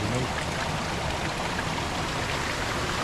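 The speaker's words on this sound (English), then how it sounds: "and water running underneath" Water running beneath a small bridge in a garden near a river, a steady close rushing trickle without pause or voices.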